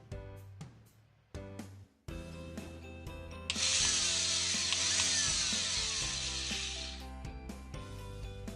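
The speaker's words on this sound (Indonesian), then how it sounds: "kita bor dulu" A power drill whines loudly and steadily for several seconds, preceded and followed by clunks and handling noises close by.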